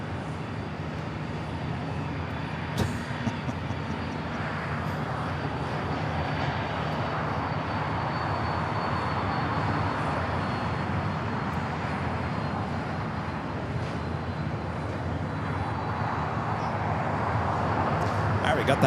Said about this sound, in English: We got that United 757 now rolling down at 25 right.